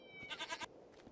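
A goat in the Minecraft Technic modpack gives a single short wavering bleat, quiet and clear against faint background ambience.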